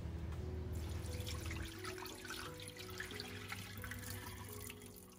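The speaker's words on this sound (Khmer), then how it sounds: "ជាដំបូងគឺយើងត្រូវយកអង្ករដំណើបខ្មៅរបស់យើងនឹងទៅលាងទឹកចេញឲ្យស្អាត" Black sticky rice being rinsed in water produces a faint, continuous sloshing and trickling. A heavier gush of water at the start settles into softer splashes and drips.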